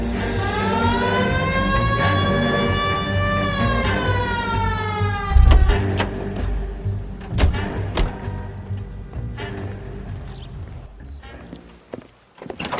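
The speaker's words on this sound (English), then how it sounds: "Hit the siren." A police car siren wails in rising and falling sweeps in the 1940s Los Angeles detective game L.A. Noire, loud and near, then cuts off and gives way to car door thuds, footsteps and clunks.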